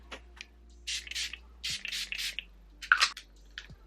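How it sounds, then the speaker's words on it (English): Several short, soft hissing spritzes of a face mist, spaced unevenly in a quiet room, with a few faint clicks between them. "Let me spray my face."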